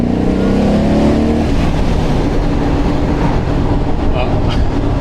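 A classic car on the road at a classic car meet: a loud, steady engine and road rumble heard from inside the cabin as the car drives along.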